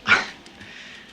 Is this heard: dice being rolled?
no